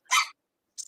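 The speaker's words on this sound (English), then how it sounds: "Dog barking." One sharp, close dog bark, followed after a short pause by a fainter, shorter yip.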